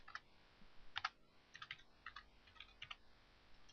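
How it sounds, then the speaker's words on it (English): Keys on a computer keyboard are typed in a few short bursts of clicks, fairly quiet and close, with pauses between groups. "I'll type in add member"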